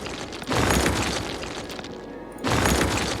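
A building is demolished in the city-building game Cities: Skylines, giving a loud, dense rumbling crash that fills the clip, dips briefly, then surges again.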